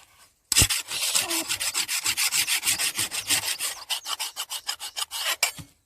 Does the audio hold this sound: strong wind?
no